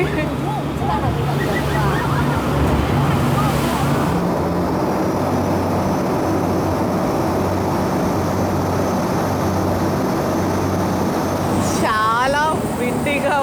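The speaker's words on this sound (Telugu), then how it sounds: "ఒక పక్క విండ్ ఒక పక్క వాటర్ సౌండ్" Fast speedboat ride over open sea off Benagil, Portugal: continuous loud roar of engine and rushing wind with splashing waves, a voice briefly audible near the end.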